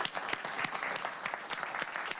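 Audience applause after a conference talk on DevOps and security, a steady patter of many hands clapping at moderate distance, with no voices over it.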